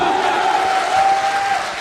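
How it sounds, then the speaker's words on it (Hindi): An audience at a motivational leadership speech breaks into a dense burst of clapping and crowd cheering, loud and close, with a steady tone running through it. "जोरदार तालियां"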